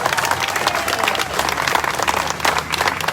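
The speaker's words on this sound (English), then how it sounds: "Give them a round of applause." A rally crowd applauds law enforcement officers outdoors in Annapolis, with dense, steady clapping and some cheering throughout, loud and continuous with no talk over it.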